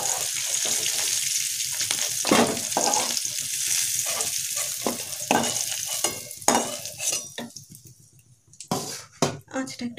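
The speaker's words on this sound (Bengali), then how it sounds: "আর একটু ভাজবো।" Sliced bitter gourd sizzles steadily in hot oil in a pan, with repeated stirring scrapes and light clinks of a utensil against the metal.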